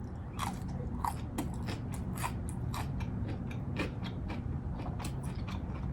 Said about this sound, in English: Lastly, I got pickle fries. I was so intrigued by these. Let's try them.